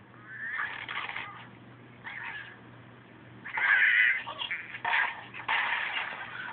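Angry Birds game sounds playing from a ViewSonic G-Tablet: squawking, cackling bird cries in several bursts over a faint low hum, tinny and close, with no talking.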